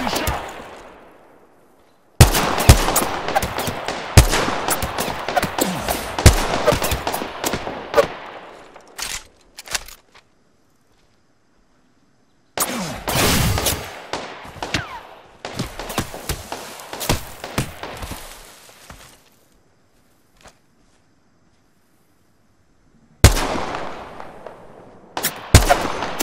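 Rapid bursts of gunfire from Apex Legends combat strike the player in dense volleys, with a louder stretch early, another mid-way and a final burst, separated by short silent gaps.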